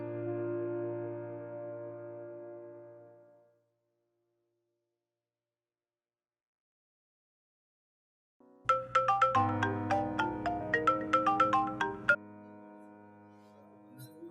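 A phone ringtone plays in an indoor home scene, first as a sustained tone, then after a pause as a brighter melodic run of plinking notes, moderately loud with no talking.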